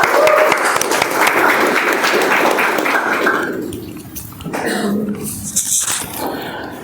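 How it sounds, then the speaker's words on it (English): A round of applause at a Toastmasters club meeting, loud and dense at first, then thinning and fading out, with a dog whimpering and growling nearby. "with a huge round of applause, please help me welcome the grammarian"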